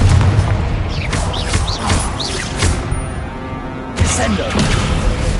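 Confringo explosion spell cast in the video game Hogwarts Legacy: loud booming blasts hit around the middle and again near the end over a dense, roaring game backdrop.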